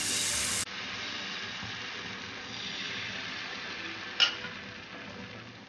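Thin milk ghavan batter sizzles on a hot pan in a steady, faint hiss, after a brief louder burst at the start, with one short clink partway through.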